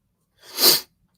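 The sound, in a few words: sneeze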